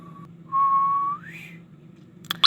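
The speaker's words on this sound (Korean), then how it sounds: "정말 휘파람을 정말 연습 중인데" A person practicing whistling produces a steady held note that slides upward near the end, clear and close, followed by a brief burst of noise.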